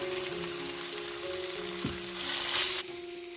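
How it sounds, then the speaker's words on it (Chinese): Diced meat drops into a wok of hot oil with minced ginger and scallion, giving a steady close sizzle and crackle throughout, with a brief stir of the spatula partway through. "炒香后下入肉丁"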